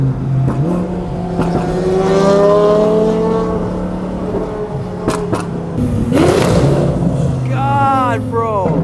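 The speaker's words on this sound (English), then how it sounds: "You can hear the turbo in it." A turbocharged BMW car engine revs and accelerates close by, with a rising turbo whine and spool tones sweeping upward in bursts over a steady engine drone; a voice speaks briefly.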